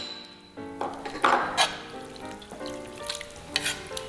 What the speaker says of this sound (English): I'm going to stir in 1/4 cup of sour cream and a tablespoon of